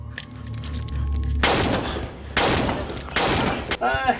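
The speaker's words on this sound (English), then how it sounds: "she answers by shooting at him" Gunshots from the 1996 horror film Uncle Sam: three loud, heavy blasts at roughly one-second intervals, each with a long ringing decay, following a quieter stretch of film sound and voices.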